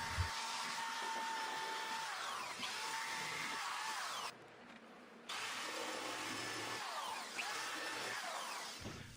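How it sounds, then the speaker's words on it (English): Small drum sander evening out ridges in the wooden corners of a DIY bottom cabinet for retail shelves, a steady close whine running throughout with a brief dip in the middle, no talk. "I went in these corners and I took a little drum sander just to get those little ridges that you can see all evened out"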